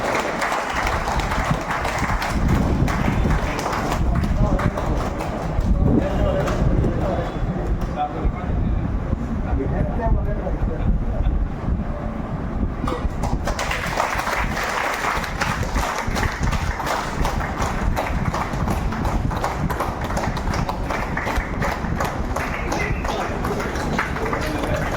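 An audience at a ceremony honouring people with a pension scheme launch breaks into sustained, loud applause lasting many seconds, dense clapping with a brief thinner stretch midway.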